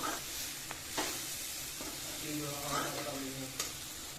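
Cluster bean (guar) curry with spices frying in a pan while being stirred gives a steady close sizzle broken by a few scraping spoon strokes, with no clear talking.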